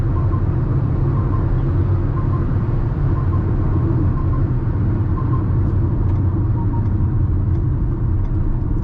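Maruti Victoris LXi CNG car cruising at over 140 km/h, a steady loud cabin drone of road rumble and engine with wind noise, continuous and unbroken throughout.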